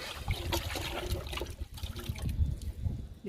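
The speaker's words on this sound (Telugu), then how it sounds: "ఇప్పుడు అలోవెరా లిక్విడ్ ఇస్తున్నాను." Aloe vera liquid poured over a potted garden plant, a steady close trickle and splash of liquid onto soil and leaves with low patters, continuing throughout without speech.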